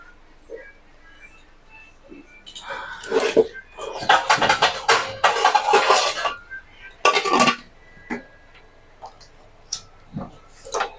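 A pot of rice is set on a gas stove in a village kitchen: several clanking, scraping metal knocks and clinks of the pot and utensils in bursts, with quiet gaps between.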